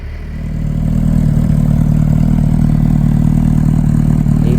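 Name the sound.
stock motorcycle exhaust pipes idling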